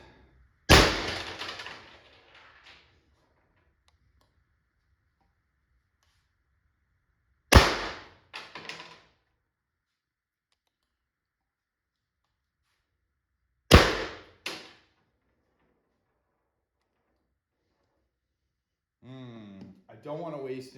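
A Valken M17 CO2 airsoft pistol fires three sharp cracks, spaced about seven seconds apart, each followed by a brief rattle, with silence between shots and a short voice at the end.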